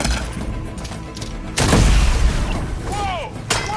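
A heavy explosion in Horizon Forbidden West lands midway with a deep, close boom, and a scattering rumble of debris follows behind the game's noise.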